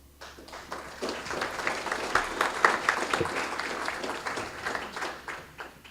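Audience applause at a Libertarian Party state convention in Florida, a steady wash of many hands clapping in a large room, rising slightly in the middle and sustained for several seconds.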